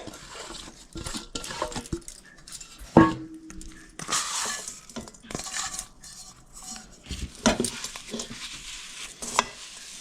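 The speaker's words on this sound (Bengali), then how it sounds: "নারকেল দিয়ে আর গুড়টা দিয়ে ভালো করে মেখে নিচ্ছি" A spoon scrapes and stirs in a metal wok, with repeated clinks and rasping strokes at an uneven rhythm, close up.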